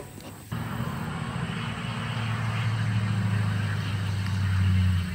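A Duramax diesel truck idles nearby on a ranch with a low, steady rumbling drone. It starts abruptly after a brief pause, then grows slightly louder and rougher, with no speech over it.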